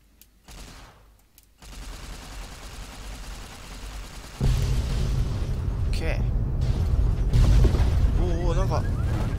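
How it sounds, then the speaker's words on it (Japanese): Explosions in Fallout New Vegas, heavy booming blasts and rumbling bursts that build to a loud, sustained barrage, with someone talking over the din. "爆発ちょっと多くない？"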